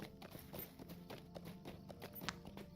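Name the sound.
chestnut horse hooves in video game LOTRO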